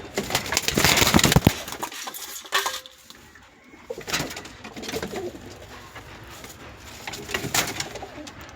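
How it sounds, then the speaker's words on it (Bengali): Oman Teddy pigeons cooing up close, with soft repeated coos and some fluttering and shuffling nearby. "সুন্দর দুটো কবুতর পায়রা"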